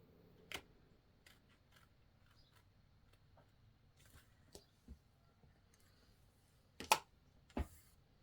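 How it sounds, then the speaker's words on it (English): Scissors cut along a marked line on fabric for a handbag, giving a handful of quiet, sharp snips spaced irregularly, with two closer, louder cuts near the end. "we're going to cut that line"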